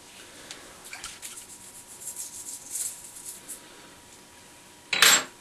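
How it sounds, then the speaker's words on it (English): Brush scrubbing the ratchet of a Lee Pro 1000 progressive reloading press, soft repeated scratchy strokes at close range, fairly quiet, ending in a sharper louder scrape. "now scrub the ratchet"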